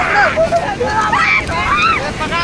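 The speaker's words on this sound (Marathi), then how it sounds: "ए बघा लाटा" Ocean waves at Baga beach in Goa, a loud, continuous surf roar with wind buffeting the microphone, while voices talk and call out loudly over it.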